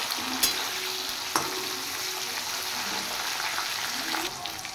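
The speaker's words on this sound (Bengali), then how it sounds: "টমেটোটা আগে ফ্রাই করে নেব" Chopped tomato fries in a pan with a steady, close sizzle and a few sharp stirring knocks, some faint background hum under it and no talking.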